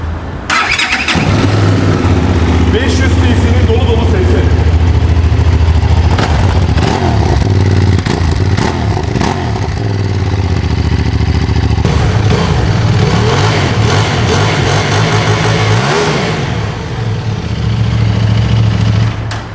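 A QJ Motor 550 RS motorcycle engine runs steadily at idle, loud and close, with a fine fuel-injector ticking clatter over the low rumble and slight shifts in pitch.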